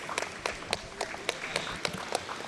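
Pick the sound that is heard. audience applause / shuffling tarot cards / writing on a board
audience applause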